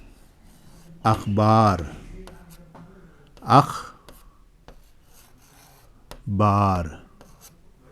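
A pen scratches on paper while writing the Urdu word akhbar by hand, with soft rubbing strokes between a voice speaking up close.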